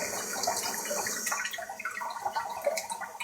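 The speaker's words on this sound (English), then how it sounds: "Running the water on it." Tap water runs steadily over an egg held under the faucet while it is being peeled, a continuous close splashing hiss with small shifts as the stream hits the shell and hands.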